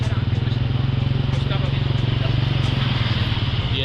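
A motorcycle engine on a Bangkok street thrums with a steady low putter, close by and fairly loud over general street noise.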